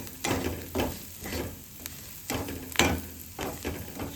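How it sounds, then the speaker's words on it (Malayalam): Egg masala fries in a pan while a spoon stirs it, regular scraping strokes recurring roughly every half second over a soft background sizzle. "ഇനി നമുക്ക് നല്ലോണം ഇനി നമുക്കൊന്ന് ഇളക്കി കൊടുക്കാം"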